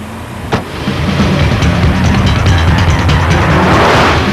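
Audi S6 Avant executive estate driving on the road, with a steady, continuous engine and road roar that swells after a brief thump near the start and then holds loud and even throughout.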